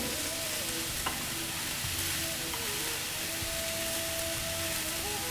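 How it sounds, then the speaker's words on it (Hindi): Vegetables frying in a pan for a turmeric-seasoned dalia dish, giving a steady, close sizzle with a few clinks of stirring and no talking. "सब्ज़ी को हम अच्छे से भून लिया।"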